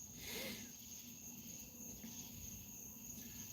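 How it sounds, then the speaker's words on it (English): Steady high-pitched insect drone from cicadas in the trees, a continuous shrill buzz holding at an even level throughout, moderately distant, with no talk over it. "I'm listening to the cicadas and in the trees."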